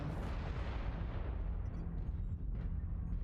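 Artillery strike explosions in Mechwarrior Online make a dense, continuous rumbling roar of overlapping booms, heavy and loud throughout.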